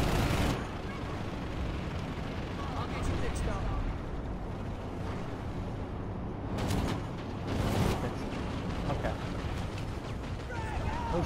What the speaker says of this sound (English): Who's shooting at